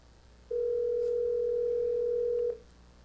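A telephone ring tone plays while a call waits to be answered: a single steady electronic tone lasting about two seconds, clear and alone over a low, quiet background.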